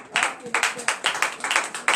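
A congregation at a morning prayer service clapping in rhythm, about a dozen sharp, fairly close claps in a quick regular beat.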